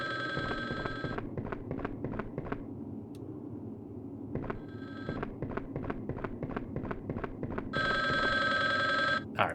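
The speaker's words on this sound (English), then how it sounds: "We got a phone ringing? Can somebody pick up the phone?" An old-style telephone bell rings in Resident Evil: Survivor on PS1, repeating bursts of rapid trilling rings with short pauses between them, loud and close, with no talk.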